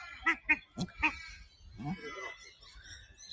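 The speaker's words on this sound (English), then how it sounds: "It's called an Australian shell duck." An Australian shelduck at Featherdale Wildlife Park gives four quick, loud honking calls in a row, followed by a person talking over soft outdoor background noise.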